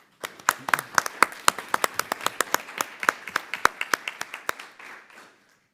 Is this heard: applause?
yes